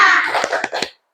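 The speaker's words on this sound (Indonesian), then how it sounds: "Tepuk semangat." A classroom of students claps a rhythmic spirit clap, a loud burst of dense clapping followed by three distinct sharp claps spaced evenly before it stops abruptly.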